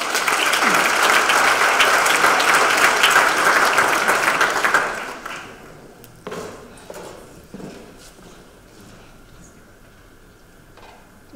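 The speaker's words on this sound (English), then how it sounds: "Please give a huge round of applause to Joanne Dobson." A conference audience bursts into loud, dense applause that lasts several seconds, then fades into scattered claps, footsteps and low room noise as a speaker takes the stage.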